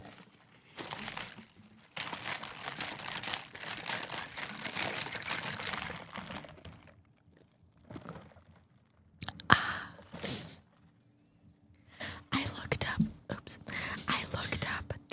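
Soft close crinkling of a Dr Pepper container and quiet sipping in an ASMR setting, arriving in irregular bursts separated by brief near-silent pauses.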